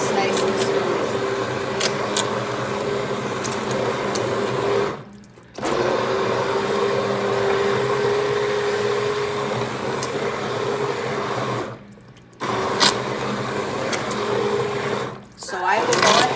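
A blender purees butternut squash tomato soup until smooth, whirring steadily and loudly in long runs broken by two brief pauses, with someone talking over the motor.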